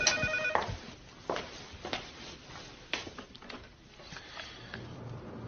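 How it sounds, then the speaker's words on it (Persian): A telephone bell rings sharply at the start, then gives way to quieter rustling, sniffs and small movement noises in a quiet room. "با تلفن جواب ده."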